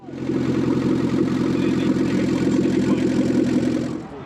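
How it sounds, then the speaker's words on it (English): Ford Anglia with a pre-crossflow engine and a blowing exhaust idles nearby, a steady, throbbing low rumble with a faint rhythmic chuff that holds evenly for a few seconds before cutting off. "it's got a bit of an issue with the exhaust, it's blowing"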